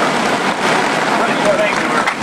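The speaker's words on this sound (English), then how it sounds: "I'm sorry it's raining" Rain pours steadily over an outdoor ribbon-cutting ceremony, a dense, loud hiss filling the scene without break, with faint voices underneath.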